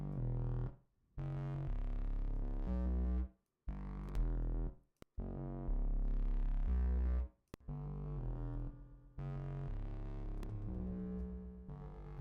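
A synthesized bass patch built in Reaktor plays through a delay effect, with buzzy, sustained notes that start and stop in bursts, separated by brief silences, and short repeats trailing after some of them.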